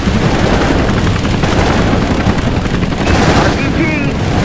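An anti-aircraft gun fires rapid bursts in the Choplifter video game, and the loud, sustained gunfire blends with explosions and heavy in-game noise throughout.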